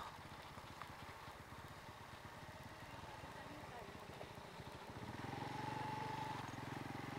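A motorcycle engine idles with a steady, faint putter on a rough road, rising slightly toward the end as a voice talks over it.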